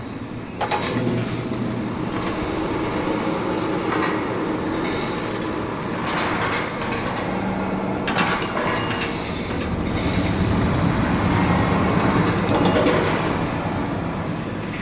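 Machine sound effect for a portal in the video game Neyyah, a dense continuous rumbling hum with rattling, clattering texture and occasional squealing, steady and loud throughout with no voices.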